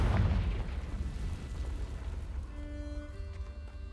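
A Confringo spell blast in Hogwarts Legacy bursts loudly with a deep booming impact, then fades into a rumbling tail as faint tonal game chimes rise near the end.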